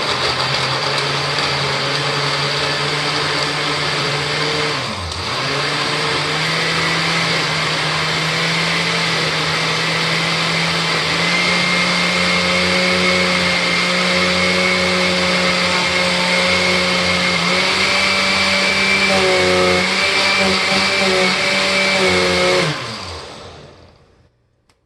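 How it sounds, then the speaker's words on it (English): A blender motor whirs loudly and steadily for over twenty seconds, its pitch dipping briefly near the start and wavering toward the end before it winds down. "My blender is old school, if you can't tell."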